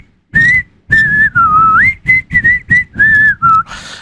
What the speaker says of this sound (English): I think some people have have a problem with the whistle part, which as far as I can tell, isn't actually a whistle. It's more like a recorder